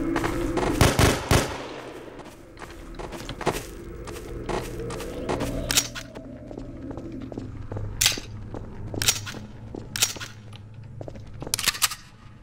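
A pistol fires in a video game, sharp single shots scattered irregularly across the stretch over a low background hum and rumble, with soft thuds between them.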